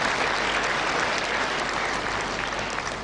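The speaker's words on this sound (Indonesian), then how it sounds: "Tepuk tangan untuk Palkotek." Steady, dense audience applause in a hotel ballroom at a graduation ceremony, loud and sustained throughout with no pauses.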